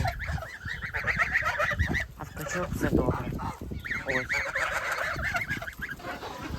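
A farmyard flock of geese, hatched from 51 eggs, honks loudly and repeatedly in overlapping calls close by, with a person speaking briefly among them.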